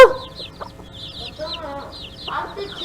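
A hen clucks with her chicks, the chicks cheeping in rapid high chirps throughout while lower clucks come and go, close by with a voice briefly at the start.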